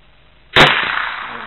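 A single loud, close gunshot aimed at a 50-yard target: a sharp crack followed by a decaying rumble, with quiet before it.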